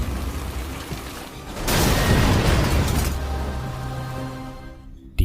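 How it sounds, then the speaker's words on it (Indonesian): A film explosion erupts with a sudden loud roaring burst that dominates for about a second and a half, then tails off into rumbling debris and a lingering low drone. "Namun Ellison tiba-tiba muncul dan menyebabkan ledakan."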